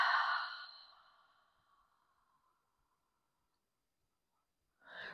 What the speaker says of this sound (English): Exhale out mouth, let it go.